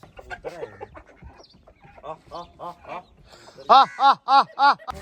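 A hen that had been sitting on duck eggs clucks in a run of rhythmic calls, with softer clucks at first and then four loud, close, evenly spaced clucks near the end.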